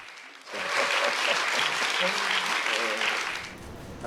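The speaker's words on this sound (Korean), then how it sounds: "최 전 의원 발언에 객석에선 박수도 나왔습니다" An audience at a political book concert bursts into sustained applause lasting several seconds, loud and dense, with faint voices mixed into the clapping before it tapers off.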